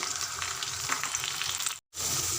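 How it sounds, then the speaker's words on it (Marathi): Onion, cumin and green peas fry in a pan with a steady, dense sizzle and light stirring, close up, broken by a brief silent gap near the end. "कांदा छान परतून घ्यायचा त्यानंतर टाकते जिरं आणि लागत तेवढेच वटाणे वापरते"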